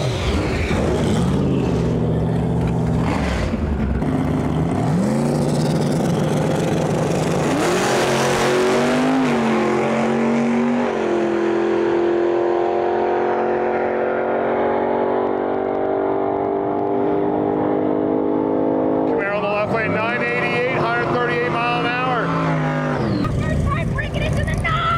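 A Camaro drag racing down the strip at a Sick Summer event, its engine roaring loud and close before a long rising run of revs that fades, then swells again near the end, with talk and crowd noise throughout.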